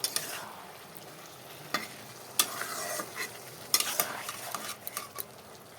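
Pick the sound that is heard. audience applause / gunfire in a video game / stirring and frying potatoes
stirring and frying potatoes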